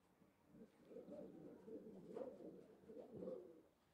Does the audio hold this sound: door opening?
no